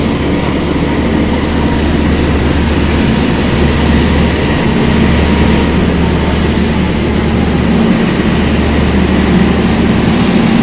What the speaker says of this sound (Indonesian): ini ada kereta Jayabaya